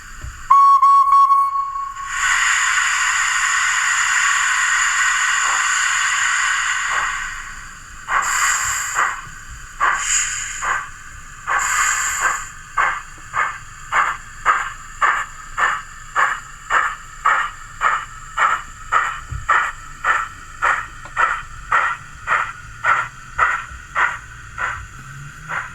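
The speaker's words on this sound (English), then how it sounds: "we're going to go in reverse then to see what the actual running sound is like." An Oxford Rail NER J26 model steam locomotive with DCC sound runs in reverse: a whistle and hiss open, then rhythmic chuffs settle into a steady, evenly spaced beat that carries on to the end, with no voices.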